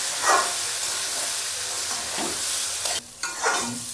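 Rice and dal fry with vegetables in a pan for masala khichdi. A loud, steady sizzle and hiss runs throughout, broken by scraping stirs and a brief dip near the end, with no talking.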